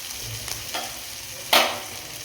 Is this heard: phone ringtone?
no